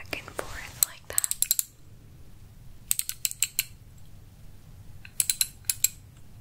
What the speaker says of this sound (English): Sometimes you just need to go back and forth like that.